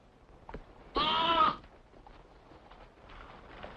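A single short lamb bleat rings out clearly, brief and fairly close, amid a quiet outdoor background with faint rustling.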